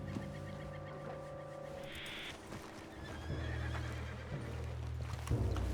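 A spooked horse whinnies in the Red Dead Redemption 2 video game: a loud drawn-out neigh and snorting amid clip-clopping hooves, with clucking chickens nearby in a farmyard setting.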